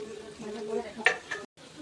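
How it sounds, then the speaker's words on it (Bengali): Veg Manchurian balls frying in oil and being turned, a soft sizzle with a few brief clinks of a utensil, close and quiet, with a voice speaking over it. "ভালো করে লাল লাল করে পালট পালট করে আমি ভেজে নেব"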